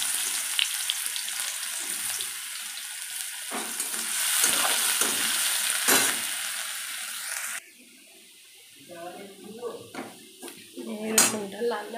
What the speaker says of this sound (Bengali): তেল গরম হয়ে গেছে, রসুন ফোড়ন দিয়ে দিই।